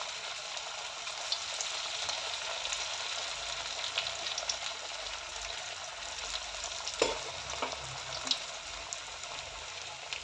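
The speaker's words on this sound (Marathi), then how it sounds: "तेल हे चांगल्या प्रकारे तापलेलं आहे. दोन मिनिट तरी या वड्यांना पलटवायचं नाही, 2 मिनिटानंतर पलटवायचं." Sabudana vadas fry in hot oil with a continuous soft sizzle and crackle, with occasional louder pops near the pan.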